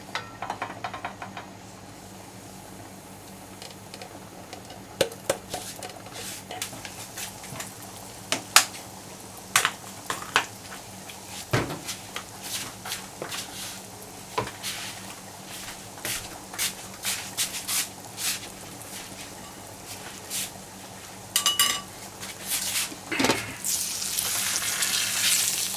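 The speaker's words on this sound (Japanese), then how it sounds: "これにもう少し油を、古い油で結構です、足して弱火でここにカレー粉を入れていきましょう" Curry powder frying over low heat in reused oil left over from frying onions: a steady low sizzle with scattered crackles and stirring scrapes, swelling into a louder, brighter hiss near the end, with no voices.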